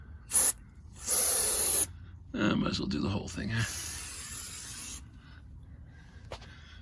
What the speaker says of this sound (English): We'll spray a bunch in there and on the wheels and on this little track